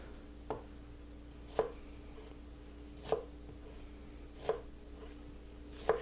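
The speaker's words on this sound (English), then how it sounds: "So there you have onion slicing, or onion dicing actually" A knife dices an onion on a cutting board with five sharp, evenly spaced chops about every second and a half over a quiet background hum.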